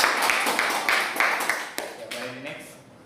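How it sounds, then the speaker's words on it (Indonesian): A classroom group claps at a microteaching session, several brisk bursts of hand claps that thin out and fade over about three seconds, with a voice speaking near the end. "Rani, boleh berikan tepuk tangan"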